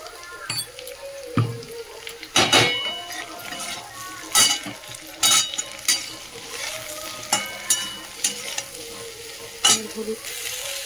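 Stalks, potato and onion frying in a little oil with salt and turmeric, stirred with sharp scraping strokes every second or so over a steady close sizzle, with no voices.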